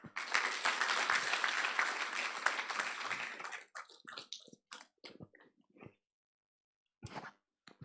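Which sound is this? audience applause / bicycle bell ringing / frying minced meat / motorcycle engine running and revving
audience applause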